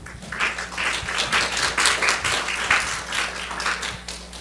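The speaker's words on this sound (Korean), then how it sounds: "모두 큰 박수로 환영해 주시기 바랍니다" A short burst of audience applause welcoming student presenters at a Korean overseas volunteering event, moderately loud clapping that swells and dips in uneven waves.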